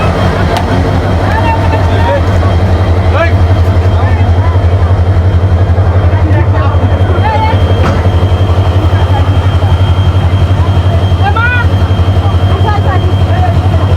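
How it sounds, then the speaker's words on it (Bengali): The Hyundai Rotem engine of a train waiting at a century-old railway station idles with a steady, loud, low rumble, while a busy crowd of travellers chatters faintly around it. "আর এর ইঞ্জিন হচ্ছে হিউন্ডে রোটেম, দেখেন"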